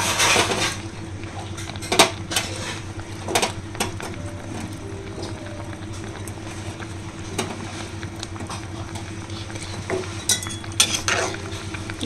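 Fried lentil dumplings (bora) are stirred in a pan, a low steady sizzle and hum with scattered metallic scrapes and taps of a spatula against the pan, close by, with no voices.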